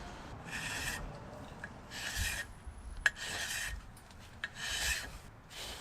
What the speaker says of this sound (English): What are we filing on this here?